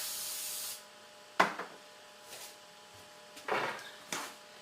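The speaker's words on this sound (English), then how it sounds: "you want to spray it with some kind of spray. And again, I do this over the sink" Cooking spray misted from an aerosol can over a kitchen sink while making homemade marshmallows, heard as several short hissing bursts separated by quiet gaps, fairly faint and close.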